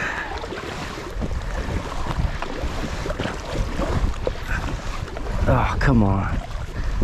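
Strong wind buffets the microphone while someone paddles on open water, a steady rough roar with splashes, and a voice speaks briefly near the end.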